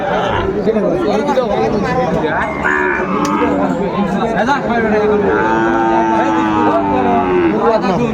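Sahiwal cattle moo repeatedly at a busy livestock market in Tangail, with long, drawn-out calls rising over steady crowd chatter and nearby talking.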